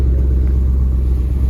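A 2016 Ford Mustang in amazing condition idles with a deep, steady rumble, close and loud, with no talk over it.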